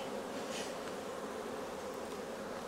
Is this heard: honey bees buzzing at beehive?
yes